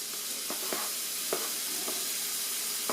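Stew meat browning in a pan gives a steady sizzle and hiss, with a few short scraping stirs poking out of the frying noise.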